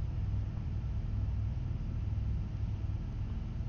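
A storm in the video game No Man's Sky, heard as a steady, dense roar of low rumbling wind noise that continues unbroken and fairly loud throughout.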